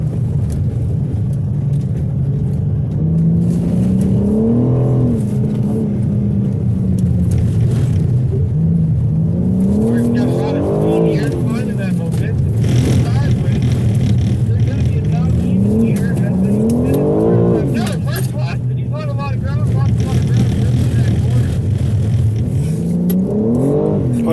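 A race car circles a wet skid pad, its engine droning loudly and continuously, rising and falling in pitch in repeated waves as the driver works the throttle.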